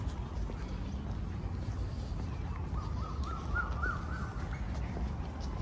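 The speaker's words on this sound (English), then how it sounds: "There's a whole flock of little blackbirds there." A flock of small blackbirds calls from the trees of a busy Bangkok park at dawn, with harsh, overlapping caws and chatter that carry steadily over the murmur of the park around them.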